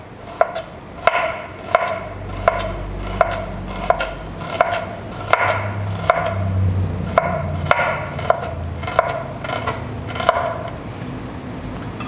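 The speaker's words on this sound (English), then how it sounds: "And then slice it thin." A knife thinly slicing a halved shallot on a cutting board, a dozen crisp, evenly spaced knocks against the board with a faint low rumble beneath, no voices.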